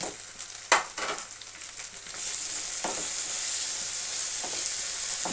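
Chilli, coriander and turmeric powders roast in a hot pan, with scraping stirs early on giving way to a loud, continuous close sizzle.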